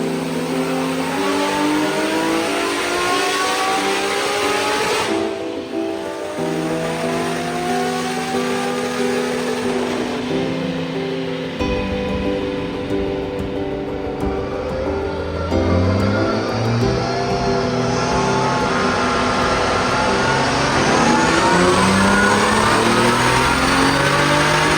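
A Nissan S14.9 engine under boost on a dyno screams through long, loud, sustained revving sweeps, rising and falling in pitch at close range with no talking over it.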